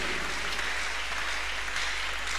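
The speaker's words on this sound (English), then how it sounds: "Clap your hands unto this God of chosen." A congregation at a church miracle service claps steadily and loudly, a dense continuous wash of applause throughout.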